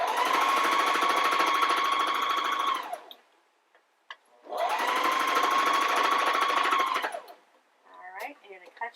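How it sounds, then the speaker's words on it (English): Sewing machine stitching a cloth diaper wipe pod, two loud, even bursts of rapid needle clatter of about three seconds each, separated by a short pause and followed by faint handling sounds. "And you're going to go ahead and sew that."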